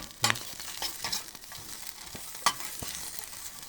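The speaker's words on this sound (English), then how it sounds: "This pre-cooked bacon only needs to be warmed up" Pre-cooked bacon warming gently in a pan on a vintage alcohol stove set to a low simmer, giving a faint, soft sizzle broken by a few light scrapes and taps.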